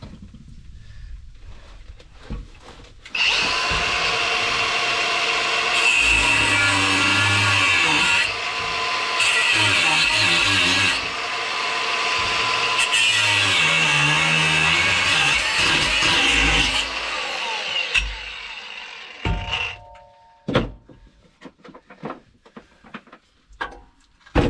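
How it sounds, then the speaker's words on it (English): An angle grinder cuts through an exhaust bracket clamp on a 1979 GMC Vandura van, a loud sustained metallic whine with pitch shifts and brief pauses, then stopping and leaving scattered clanks and knocks. "let's get that grinder and we'll cut the bracket off there, the clamp"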